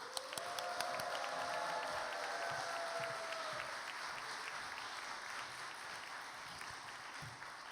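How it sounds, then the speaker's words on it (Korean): A church youth congregation applauds and cheers to welcome the senior pastor, a dense, sustained wash of clapping with brief raised voices near the start that settles into steady applause. "우리 담임 목사님 나오실 때 우리 큰 박수로 환호로 우리 모시도록 하겠습니다."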